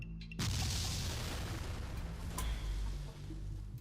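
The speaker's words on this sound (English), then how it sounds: "Then there's this huge explosion." A huge explosion sound effect in a Mortal Kombat II audio comic erupts suddenly into a loud, sustained roaring boom with rumbling debris and a second heavy hit, with no voices.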